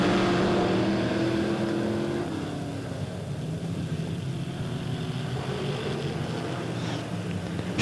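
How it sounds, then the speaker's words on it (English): Midwest modified race cars roar around Lebanon Midway Speedway during heat races. A loud, continuous engine drone swells as they pass, with wind noise on the microphone. "but the 74 of Kyle Bates finding a little horsepower in that Midwest modified"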